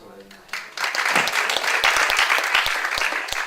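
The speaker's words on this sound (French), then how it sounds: "Je voudrais aussi qu'on applaudisse Stéphane et Solène." An audience claps for two people after a film screening, the applause swelling in after a brief quiet lead-in and holding dense and steady, with some distinct louder claps close by.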